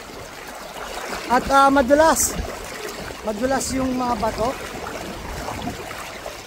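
River water streams and trickles around people wading across the Gabaldon river while they talk over it, the flow a steady broadband rush throughout.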